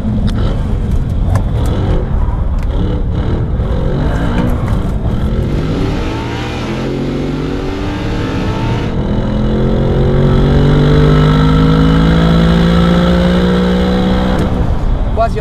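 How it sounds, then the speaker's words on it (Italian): Audi R8 supercar engine revving on the road, a steady growl that climbs in pitch and grows louder in the second half as the car accelerates, with someone talking over it early on. "Dire che sto guidando una supercar che parte da un valore di 50k"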